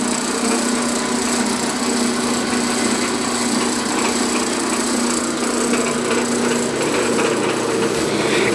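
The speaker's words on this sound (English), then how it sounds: "I'll turn it on" A modified bandsaw driven through an added shaft runs at high speed, giving a loud, steady whirring drone with a constant hum and no pauses.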